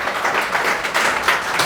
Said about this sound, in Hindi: चलिए दोनों के लिए एक बार जोरदार ताली मारिए आप लोग।